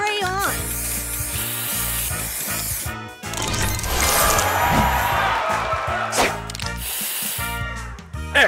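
Spray booster effect from the mobile puzzle game Color Crush: a loud, continuous hissing spray layered over bright, busy game music, with an announcer voice calling out between bursts.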